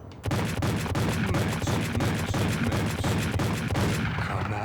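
Rapid, dense shotgun blasts from enemies in the video game Max Payne, a near-continuous barrage of loud, overlapping shots filling nearly five seconds with sharp repeated cracks.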